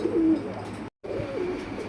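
Silver Gorra pigeons cooing at a loft, soft low repeated coos close by, with a brief drop to silence midway and no talk.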